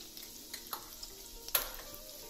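Green chilies, seeds removed, sautéing in a pan for chilli paneer: a soft, steady sizzle with a few light stirring clicks and one sharper scrape, fairly quiet and with no voices.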